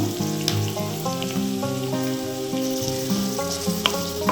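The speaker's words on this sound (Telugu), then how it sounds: "ఇప్పుడు మనం ఉల్లిపాయలు, ఆనియన్స్ వేసేసుకుందాము" Onions sizzle in hot oil in a pan with green chillies for a cauliflower, potato and tomato curry. A steady, even frying hiss runs throughout, with a few faint clinks over it.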